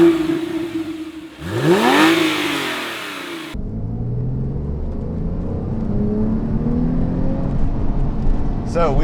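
A Porsche 997 GTS engine revs up sharply, then settles into a steady drone as the car cruises, with a voice briefly audible.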